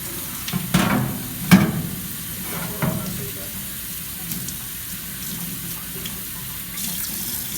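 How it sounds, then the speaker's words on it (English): Water runs and splashes over a large Charnley Forest sharpening stone being rinsed after lapping with silicon carbide powder, a steady close faucet-like wash with a few louder splashes early on. "I'm going to rinse this off"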